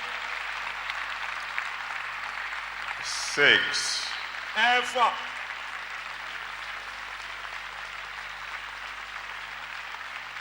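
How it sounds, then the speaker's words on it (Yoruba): A large church audience claps in Ibadan, a steady hiss of many hands that runs throughout under a voice counting aloud. "Thank you, those of you who are clapping."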